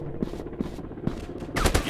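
Gunfire in a first-person shooter video game: a few sharp single shots spaced apart, then a denser burst of rapid fire at the end, fairly loud.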